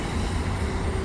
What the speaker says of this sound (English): And that's the end of the train right there, that last auto rack.